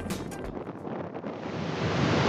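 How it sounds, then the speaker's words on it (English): Strong wind roars through a tunnel acting as a wind funnel on the Cook Strait coast of New Zealand, a steady loud rushing buffeting the microphone and building toward the end. "This tunnel is having the effect of being an artificial wind funnel. It's blowing like crazy here."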